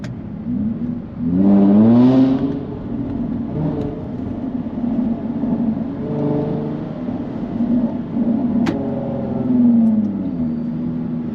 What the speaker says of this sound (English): That is a very loud exhaust.